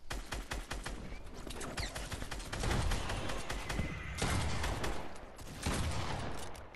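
A new pump shotgun in Fortnite fires in loud, close blasts among dense bursts of gunfire, with heavy booms and crackling reports running almost continuously and no talk.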